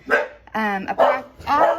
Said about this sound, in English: Sorry, the dog was barking, I'm back.